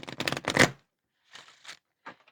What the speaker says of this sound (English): Sorry, I know this shuffling is kind of loud.